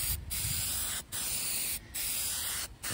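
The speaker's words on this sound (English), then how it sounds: "I'm gonna start laying on my first of two coats of the primer surfacer for the dash" Spray gun laying a wet coat of primer surfacer onto a car dash panel for a Monte Carlo SS G-body interior, heard as three long steady hissing passes with brief gaps between them, close and loud.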